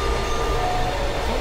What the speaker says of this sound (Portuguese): Nosso metrô chegou.